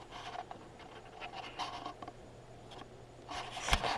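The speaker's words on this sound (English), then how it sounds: "so now I got to draw a pencil line." A pencil draws a line across a curved panel during lighthouse model construction: close, soft scratchy strokes in short bursts, with a louder scrape near the end.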